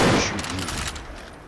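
Gunfire in the video game Far Cry New Dawn, a loud burst of rapid shots at the start that trails off into echoing decay.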